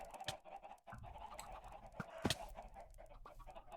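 Chickens in the video game Minecraft cluck in short, repeated calls over a steady low background hum, moderately close and with no talking.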